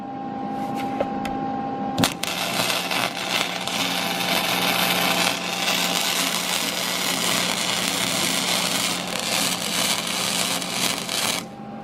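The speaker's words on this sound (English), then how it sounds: "this is a flux core welding process, which has the best penetration" Flux core welding arc filling a wide gap on a dirtboard hanger, a steady loud crackling buzz that runs almost unbroken after a sharp start, with a constant hum underneath.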